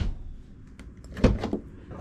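A door card panel on an Infiniti Q50 3.0t is pressed onto the door, giving a few close plastic clunks and knocks, loudest near the middle, over a quiet background.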